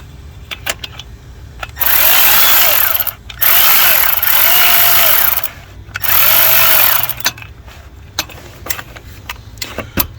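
A power tool tightens bolts on the 5.7L EGR valve of a Dodge Ram 1500 V8. There are three loud, sustained whirring bursts of a few seconds each, close up, with quieter clicks and pauses between them.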